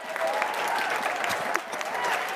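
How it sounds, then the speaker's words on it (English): A live show audience at Aspen Ideas Health claps in a dense, steady burst of applause that fills the whole moment, close and loud with a few scattered cheers. "I need a little bit of applause."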